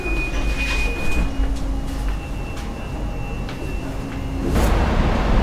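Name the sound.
light rail train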